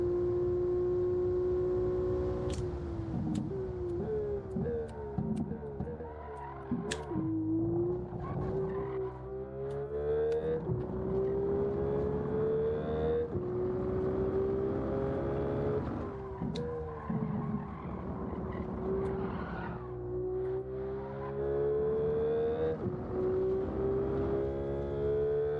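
Car driving hard around a track in Gran Turismo 7, a loud continuous engine note rising and falling through gear changes, with tire squeal and skidding through corners and no talk.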